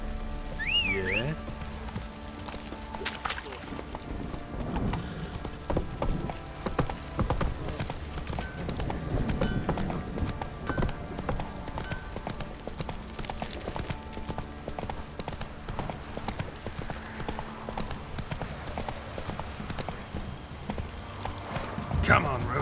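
The horse Roach gallops in The Witcher 3, a steady, fast clip-clop of hooves that runs throughout at close range, with a brief whinny early on and voices speaking over the hoofbeats.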